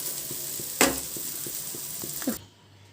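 Brinjal and egg frying in oil in a pan for an Assamese dish, a soft steady sizzle with a few light stirring taps and scrapes, then a sharp clatter and a louder scrape before it cuts off.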